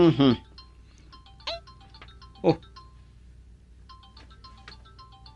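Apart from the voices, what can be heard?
mobile phone ringtone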